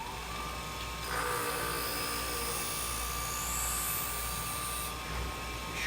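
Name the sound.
sharpening convex scissors at 35 degrees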